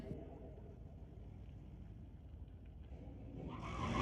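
At a Mission Raceway Park drag strip, a 2013 GMC pickup and a Ford race, heard as a distant engine rumble and roar that swells near the end, under an announcer's voice.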